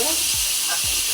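Oil sizzles steadily in a pan as food with green chillies is stirred, a dense close hiss with two soft scraping sweeps of the spoon.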